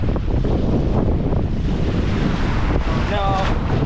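Strong wind and choppy waves on open lake water in Algonquin Park, heard from a small boat during a solo crossing: loud, constant rush of wind buffeting the microphone over steady wave wash, with no talk.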